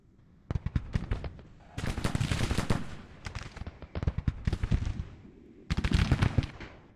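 Sharps carbine fire from Union cavalry in the Civil War strategy game Grand Tactician, with rapid, dense bursts of many overlapping gunshots in several loud volleys separated by brief lulls.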